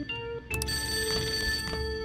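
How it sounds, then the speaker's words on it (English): A phone rings in the Persona 5 video game, its electronic tones bursting out in two quick chimes followed by a steady warbling ring that keeps going over a low game backdrop. "Alright, we're getting the phone."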